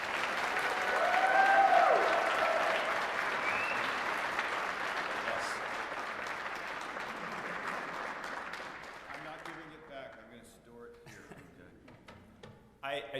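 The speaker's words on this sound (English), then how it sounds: "Let's give Mr. Portillo a round of applause." Audience at a school district honor band concert claps in a sustained round of applause that swells early and fades over several seconds, with a voice talking briefly as it dies away.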